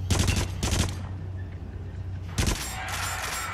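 Gunfire in the horror shooter Until Dawn: Rush of Blood comes in three short loud bursts, each a quick cluster of shots separated by brief pauses.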